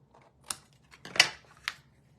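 Scissors trimming excess patterned paper for a Christmas card, three quick, crisp snips spaced apart, close and quiet.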